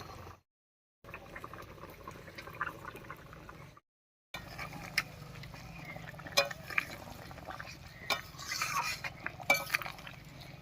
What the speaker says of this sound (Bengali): এবারে ভেজে রাখা ডিমগুলো দেব।